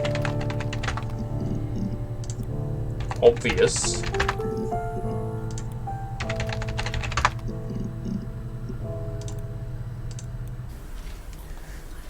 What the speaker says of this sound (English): Just typing in her story.